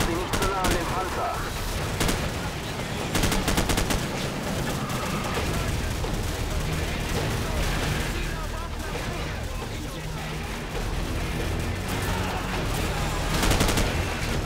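Dense machine gun fire and other gunfire in Call of Duty 4: Modern Warfare near a tank, loud sustained bursts and explosions with voices talking over the din.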